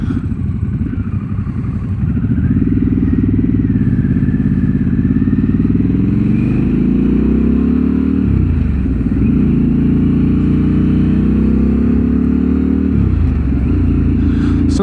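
A motorcycle engine runs loud and close throughout the ride, its throbbing note rising and falling through several gear changes and throttle swells, with wind noise underneath.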